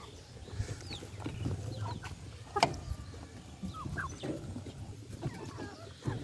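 Backyard chickens pecking at melon pieces, with soft scattered clucks and one sharper call over steady low rustling and background noise; no talking.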